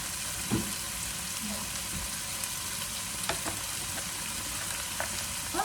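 Adobong kangkong, water spinach gathered from a dumpster in Italy, fries in a pan with a steady, loud sizzle and a few faint stirring clinks and scrapes throughout.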